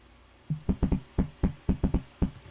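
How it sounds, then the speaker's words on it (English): Knuckles knock against a microphone to make a kick-drum-like sound: about eleven punchy, booming thumps land in a loose rhythmic pattern, close and loud over a low background hiss, with no voices. "It sounds like a kick drum, but it's not a kick drum. It's me using my knuckles to knock against the mic."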